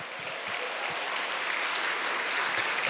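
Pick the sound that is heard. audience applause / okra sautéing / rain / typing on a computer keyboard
audience applause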